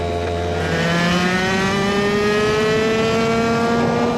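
A competition racing kart engine on a track holds a loud, close, buzzing drone that climbs steadily in pitch as it accelerates down a straight, with no talking.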